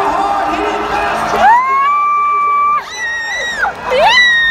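A jousting-event crowd at PNE cheers and whoops loudly, with high shrill shouts and whistles rising and falling over a steady roar of voices.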